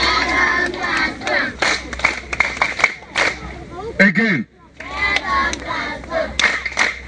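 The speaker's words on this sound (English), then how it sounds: "Clap hands for yourself." Schoolchildren at a school in Enugu State clap hands in irregular bursts mixed with loud shouting and cheering voices, pausing briefly before the clapping and chatter resume.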